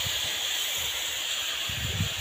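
Water poured into a hot pan while cooking smoked fish sets off a steady, loud, bright hiss that holds throughout, with low bubbling and clatter rising near the end; no voice is heard.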